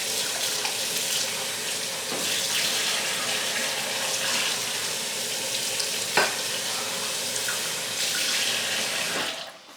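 Tap water runs steadily into a sink while dishes are washed, with occasional clinks and splashes over a constant broadband rush that ends abruptly near the end.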